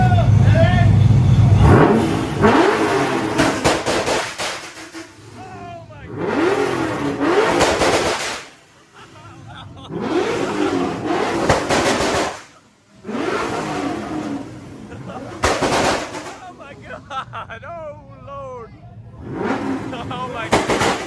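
Loud engine revving from a Pontiac GTO or Toyota Supra firing on a 2-step launch limiter at a speedway. It comes in repeated long, roaring bursts with brief drops between them, and people shout and talk over the noise.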